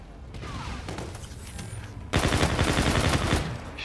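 Video game gunfire from Call of Duty: Infinite Warfare, a dense fusillade of rapid shots that jumps in loudness partway through and keeps rattling in steady, close bursts.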